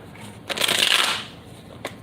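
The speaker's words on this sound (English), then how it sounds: "Tell me to shuffle 2 more times." A deck of tarot cards is shuffled once in a quick riffle, a bright papery burst lasting about a second and followed by a soft tap, close and clear.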